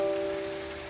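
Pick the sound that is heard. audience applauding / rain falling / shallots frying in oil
rain falling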